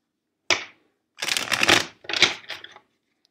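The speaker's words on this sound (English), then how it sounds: "First, let's shuffle the deck 5 times for you." A deck of tarot cards is shuffled close up: one short riffle, a pause, then a longer flurry of rapid papery flicks and a final shorter burst, with silence around them.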